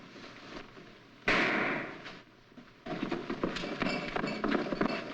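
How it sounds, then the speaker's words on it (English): A gunshot sound effect in an old Boston Blackie radio detective drama: one sudden loud bang breaks a quiet background and decays over about a second. Rustling, scuffling noise follows. "What was that shot?"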